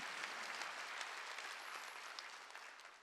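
A church congregation claps together in steady, dense applause, fairly faint and gradually fading over a few seconds, with no speech.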